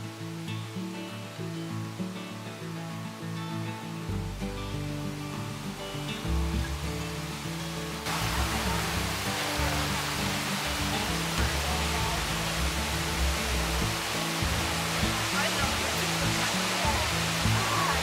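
Multnomah Falls, a tall waterfall, gives off a continuous broadband roar of falling water heard from close by. The roar grows noticeably fuller and louder partway through.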